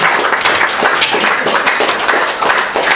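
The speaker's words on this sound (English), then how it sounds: "I think they deserve another round of applause for that." Audience applause at a Busybird Publishing open mic night: dense, steady clapping from a room full of people, loud and close, filling the whole stretch without pause.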